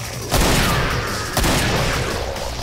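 A big gun fires in Killing Floor, two loud close blasts about a second apart, each followed by a ringing rumble.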